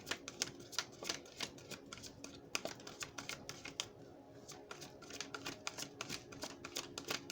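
Playing cards being shuffled in repeated quick riffling bursts, close and fairly quiet, with no talking.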